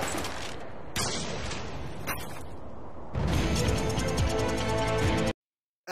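Rapid gunfire from a trick shot in the Call of Duty MW2 game comes as dense, loud bursts of shots and mechanical clatter over busy game noise, then cuts off abruptly into silence.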